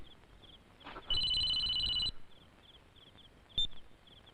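A telephone gives a single electronic ring of about a second in a 2001 Hindi film scene, with faint repeated beeps and a short tone afterward, quiet overall with no talking.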